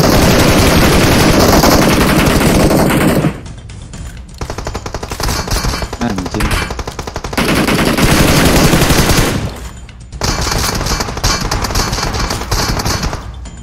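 Rapid automatic gunfire from a video game, loud bursts of machine-gun fire with dense rattling volleys, a brief lull, then more sustained firing; no talking.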